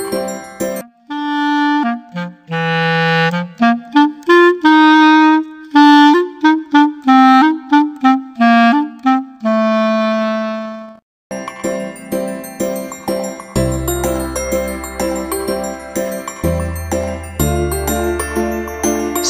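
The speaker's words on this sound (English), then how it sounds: "The clarinet has only one reed." A single-reed clarinet plays a close, loud solo melody of sustained and short notes, then the music shifts to a fuller passage with a low accompaniment beneath it.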